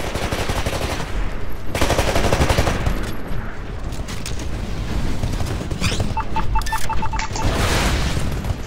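Dense, sustained automatic gunfire and heavy mechanical clanking in a Titanfall match, loud and continuous with rapid bursts throughout and a few beeping interface tones near the end.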